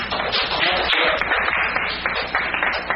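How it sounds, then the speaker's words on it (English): Seminar attendees at a diplomatic dinner event give a brief, moderately loud round of applause, many hands clapping together at a steady density. "Why don't we give ourselves a round of applause?"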